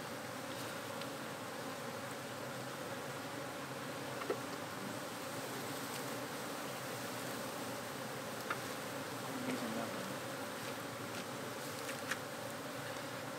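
A large, healthy colony of honey bees hums continuously during an open-air hive removal as combs are pulled out. The buzzing is a dense, even swarm drone, with a few faint knocks and no talking.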